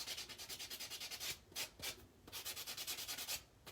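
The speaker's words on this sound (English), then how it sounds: "We'll get these all nicely buffed." Rapid back-and-forth rubbing of a nail buffer across fingernails, a steady scratchy strokes pattern with brief pauses, close and moderately quiet with no talking.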